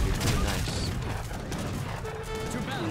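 Cannon fire during an Age of Empires 3 campaign battle: a dense, continuous clatter of overlapping booms and crackling shots, steady and moderately loud throughout.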